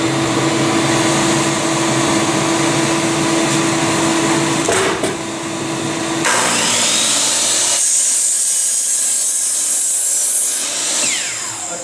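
A shop vac running through a Dust Deputy cyclone separator for dust collection gives a steady, loud whirring roar that continues throughout, with the airflow tone shifting partway through as the suction changes.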